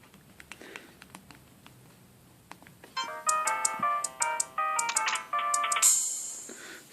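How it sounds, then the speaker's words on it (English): Soft tapping first, then a bright, bouncy electronic salsa ringtone melody plays in quick repeated notes on a Sony Ericsson Z500a mobile phone, fairly close and clear, with no talking. "So let's say I wanted to make a salsa ringtone."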